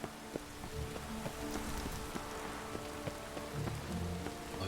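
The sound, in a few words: rain falling in the video game The Witcher 3: Wild Hunt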